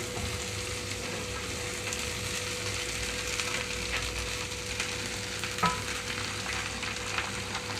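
Okra pieces sizzle and crackle steadily in hot oil tempering, with occasional stirring scrapes and a faint background hum.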